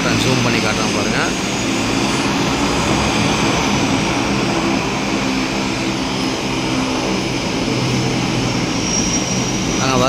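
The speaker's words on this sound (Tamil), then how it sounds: "இங்கேருந்து இன்னொரு சீ ஃப்ளைன் வந்து கிளம்ப போகுது" A seaplane in the Maldives roars steadily as it takes off, its propeller engine drone loud and sustained throughout with a broad, even hiss and no pause in the noise.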